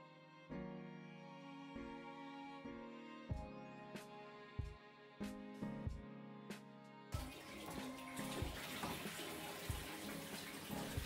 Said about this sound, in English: So now that the aquarium is getting filled up